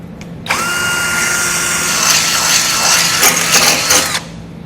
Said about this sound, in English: We need to drill those out, just like we did for the initial first two